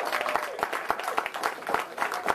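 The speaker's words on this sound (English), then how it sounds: "Let's give that brother a round of applause." Audience applause at a lecture hall talk, a dense burst of many hands clapping together with sharp individual claps standing out, moderately loud and steady throughout.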